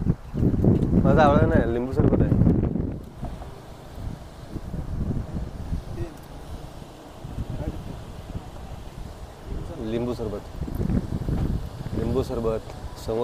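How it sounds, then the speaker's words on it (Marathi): A cool sea wind blows at Ganpatipule beach in Ratnagiri, buffeting the microphone with gusty rumble while people talk nearby throughout. "आणि हा गार वारा"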